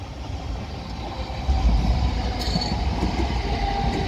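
A South Western Railway Class 455 electric train at Raynes Park station, a close, steady rumble of wheels and motors that grows louder midway and holds there, with a faint high squeal above it.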